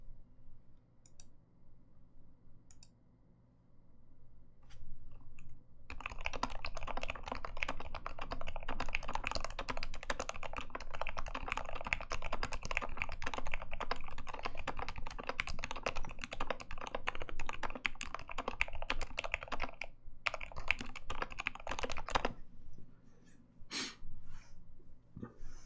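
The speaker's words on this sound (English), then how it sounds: "The right side of that space bar sounds like it's a little off too." Steady, fast typing on a KBD75 keyboard fitted with Gateron Silent Ink switches, a dense run of soft, muted keystrokes lasting most of the stretch, with quieter gaps at the start and end.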